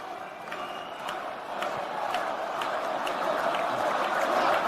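A large crowd at the Republican National Convention cheers and claps, a broad roar that swells steadily louder, dotted with sharp whoops and claps.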